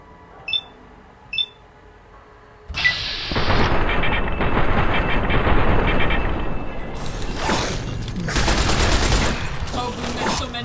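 Sustained heavy gunfire in Fallout: New Vegas, erupting after two brief chirps and continuing as a loud, dense barrage of overlapping shots and blasts.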